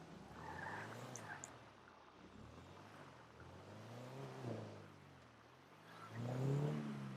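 A streetcar driven in GTA Online pulls into a garage, its engine humming and revving steadily at moderate loudness, swelling near the end, while someone talks over it throughout.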